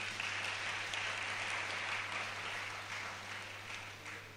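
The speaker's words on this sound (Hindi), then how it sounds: "आप लोग अगर उत्साहित नहीं हैं तो ताली मत बजाइएगा, और उत्साहित हैं तो ताली बजाइएगा।" Applause fills a hall at a church youth meeting, a steady crowd clapping at a faint, distant level that fades slightly toward the end.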